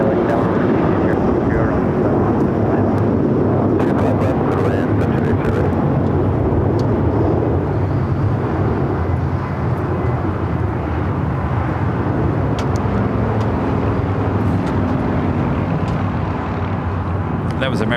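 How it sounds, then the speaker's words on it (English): An American Airlines Airbus A321 jet airliner at Los Angeles airport roars past, loud and close, the heavy engine rumble swelling and then slowly easing off. "That was American Airlines Flight 2543 heading to Dallas, Fort Worth, Texas, an A321."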